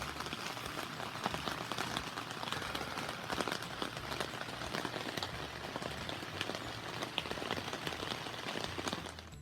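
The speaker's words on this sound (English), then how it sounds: "More rain." Steady rain falling at a campground in Gatlinburg, Tennessee, a faint continuous patter of drops on surfaces with no voices, even and unbroken throughout.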